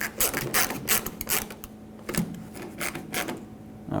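Screws tightened into plastic inserts on a 1995-2004 Toyota Tacoma tail light, giving a series of close, uneven ratcheting clicks and mechanical rattles in short bursts across several seconds.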